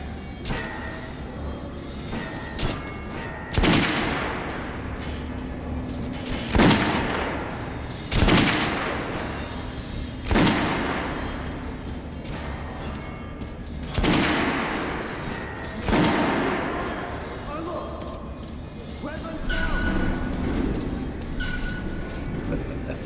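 Gunfire from a volley of soldiers firing on command in the video game Metro Last Light, heavy repeated blasts roughly every few seconds with rumbling tails, mixed with shouted orders and game ambience.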